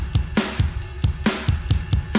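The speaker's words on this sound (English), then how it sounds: "with some compression to glue the drums together," A tight, compressed shoegaze drum kit grooves along with thumping kicks, snappy snares and washing cymbals, dense and evenly loud.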